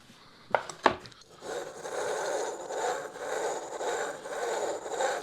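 A 6mm wood chisel gives two sharp knocks, then shaves and scrapes through wood in a few rough, rhythmic strokes, close and moderately loud with no talking.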